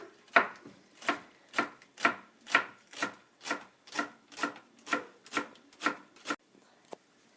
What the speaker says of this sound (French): nous allons émincer aussi en petits morceaux les oignons bottes.